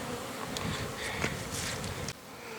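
A dense swarm of honeybees buzzing loudly and continuously on their spring cleansing flight outside the hives, the drone close and unbroken, with occasional louder passes of single bees.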